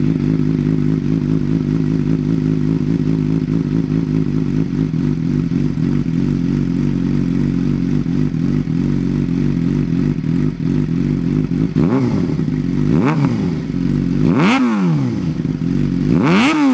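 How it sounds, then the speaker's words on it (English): A 2007 Suzuki GSX-R 600 sport bike idles loud and close with a throbbing exhaust note, then is revved in three or four sharp, rising bursts near the end. "you probably want to hear the exhaust"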